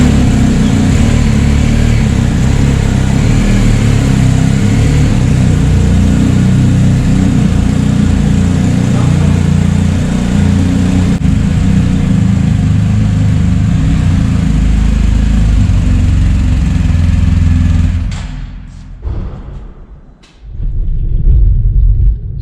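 A BMW GSA 1250 motorcycle engine while riding, a loud, steady close-up drone and rumble with wind-like noise that holds for most of the clip before dropping away abruptly near the end.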